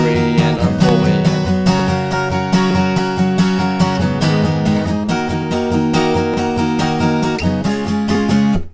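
Acoustic guitar strumming the chorus of a song in a fast, steady rhythm of dense chord strokes, loud and close, continuous with no voice.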